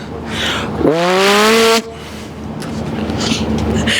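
A voice imitates a car, a short revving vroom with rising pitch that lasts about a second, then cuts off into quiet background.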